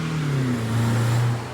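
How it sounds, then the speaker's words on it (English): A car engine revs outside a Dunkin' parking lot, a single rising and falling roar with a low droning tone, moderately close and heard alone for under two seconds. "See how they're revving the engine?"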